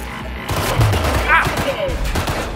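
Gunfire in the shooter game Cyberpunk 2077, a dense burst of shots under loud game noise and a speaking voice, with a brief electronic chirp midway.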